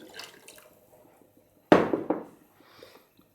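Plain water poured from a cup into a pot while cooking chickpea pilaf, a sudden splashing gush that fades over about a second, with faint kitchen clatter before and after.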